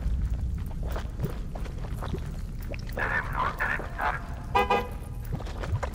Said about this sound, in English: Why do I hear a car horn?